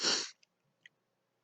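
A single loud, close human sneeze bursts out at the start, followed by near silence with two faint breathy sniffs.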